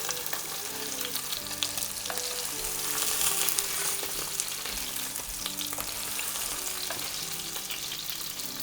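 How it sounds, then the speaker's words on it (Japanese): A steak fries in a pan with a steady, close sizzle and crackle that stays constant throughout, with no voices. "揚げ物をしてるような音"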